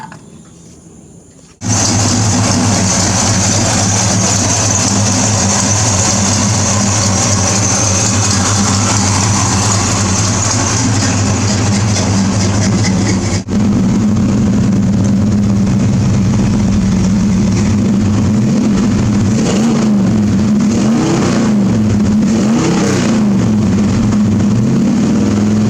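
A V8 engine swapped into a Chevy S-10 pickup cranks and catches, then runs with a loud, steady low rumble that shifts to a rougher idle partway through.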